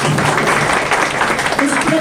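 Guests at a baby shower burst into loud, steady clapping that fills the room, a dense crackle of hands running the whole short stretch with voices mixed in.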